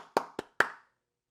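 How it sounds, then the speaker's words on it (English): Three sharp, close handclaps in quick succession, each ringing off briefly before silence, with no talking. "Those individuals that are clapping"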